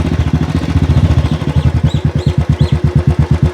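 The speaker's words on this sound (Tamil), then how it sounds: "பைக்கில் போகிறதுனால எந்த சத்தம் உங்களுக்கு அதிகமாக இருக்குது அப்படிங்கிறது தெரில" A motorcycle rides along the embankment of Thirumeni lake, its engine thumping in a fast, steady pulse close to the microphone, with slight rattling over the beat.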